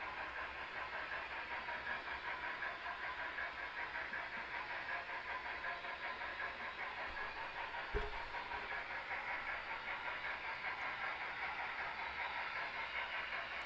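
A large model Centipede locomotive runs steadily on a home layout, a continuous mechanical hum and hiss throughout with one brief thump partway through, no voices.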